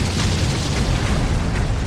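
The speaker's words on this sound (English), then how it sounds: "Love those explosion graphics." Artillery explosions in the tactical war game Lock and Load Tactical, Pacific theater, roll as a dense, loud, rumbling boom that fills the whole short stretch with continuous low blast noise.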